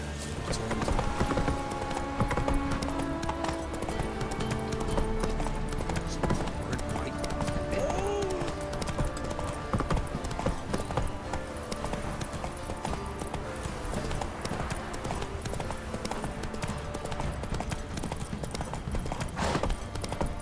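The horse Roach trots in The Witcher 3, its hooves clip-clopping in a steady rhythm throughout, fairly near, under game ambience, music and speech.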